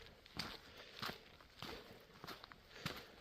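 Footsteps crunch along a night trail on the Camino Frances, roughly five soft, uneven steps spread over a few seconds, faint and close against quiet background noise.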